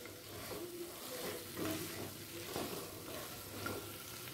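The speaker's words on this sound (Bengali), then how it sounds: "এরপর দিয়ে নেব ভেজে রাখা পনিরের টুকরোগুলোকে দিয়ে মশলার সাথে ভালো করে কষিয়ে নেব" Fried paneer pieces are stirred through a spice masala in a pan on medium flame, giving a soft, steady sizzle with scraping strokes of a spatula at intervals and no voice.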